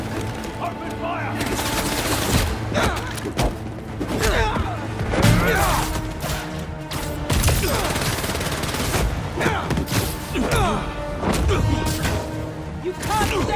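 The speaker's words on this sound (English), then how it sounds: "Open fire!" Rapid gunfire and bursts of automatic weapons in the video game Marvel's Spider-Man 2, dense and sustained with sharp cracks and impacts, while voices shout over the combat.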